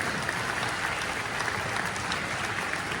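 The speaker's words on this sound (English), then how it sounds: "Give them a huge round of applause." A dense, steady wash of applause from a concert audience, thanking the high school students who helped with a summer band programme, sustained and even throughout, heard from a distance.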